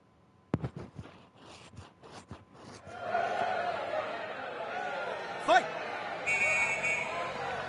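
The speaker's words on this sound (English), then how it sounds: "Here's the bell." At a Halloween wrestling show, a match bell rings out over a noisy crowd near the end, sustained and metallic, after a stretch of thumps and growing arena din.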